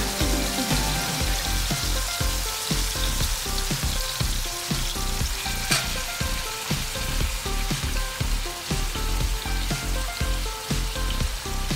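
Squid and tomatoes sauté with fish sauce in a hot pan, giving a steady, dense sizzle and crackle throughout, close and fairly loud, with no talking.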